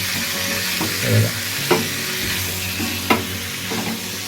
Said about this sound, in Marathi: मस्त असे फ्राय होईल तेलामध्ये